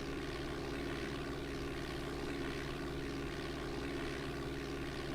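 A Cessna's propeller engine climbs in Flight Simulator 4, a steady, loud, droning hum that holds evenly throughout, with no talking.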